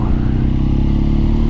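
A BMW R nineT motorcycle's engine idles loud and near, a dense, even low rumble with a faint mechanical clatter and no voices.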